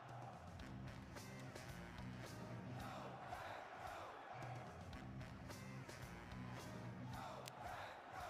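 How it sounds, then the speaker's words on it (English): A large crowd at an NFL Draft event roars and shouts together in a steady, sustained wall of noise heard from a distance. "Listen to this crowd."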